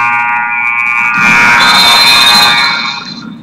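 A loud electronic buzzer sounds at the end of a quarter in a high school basketball game in a gym. It is a single sustained blast lasting about three seconds, with crowd noise swelling beneath it as it cuts off.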